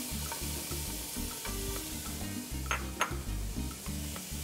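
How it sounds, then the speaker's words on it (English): Finely diced onion sizzles in extra light olive oil in a frying pan, a steady crackling fry under repeated scraping and stirring of a utensil against the pan, with a couple of sharper clinks, close up. "I'm gonna add some finely diced onion."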